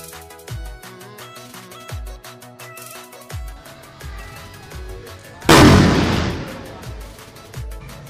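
A sutli bomb, a jute-wrapped Diwali firecracker, bursts in one loud sharp blast with a long noisy decay, after several fainter pops and thuds that come before it.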